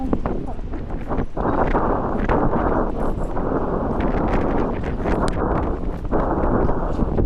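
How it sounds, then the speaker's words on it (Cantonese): Strong wind buffets the microphone outdoors in a constant loud roar with gusty surges, while people talk over it. "好大風，好大風，好大風。"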